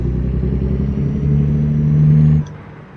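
Heavy truck engine in the 18 Wheels trucking game, a loud, deep rumbling drone that swells as it revs, holds, then cuts off abruptly near the end; no talking.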